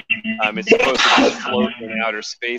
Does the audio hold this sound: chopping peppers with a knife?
no